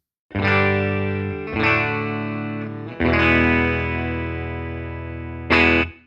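A clean electric guitar played through a Fillmore 50 combo amp on its clean channel, strummed chords ringing out in a few sustained phrases, fairly loud and close, with a final short chord.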